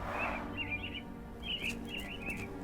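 Caged mynah birds in a Sherlock Holmes video game give a series of short, fairly faint chirping calls in bursts, with steady ambient background beneath them and no talking.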